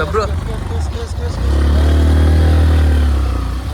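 An Activa scooter engine idles with a steady low drone close by in the rain, while people talk over it.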